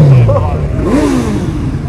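A four-cylinder Suzuki GSX-R motorcycle fitted with a single Viper exhaust silencer revs hard in a loud, close burst that rises and falls in pitch, with crowd noise around it at a motorcycle season-opening event.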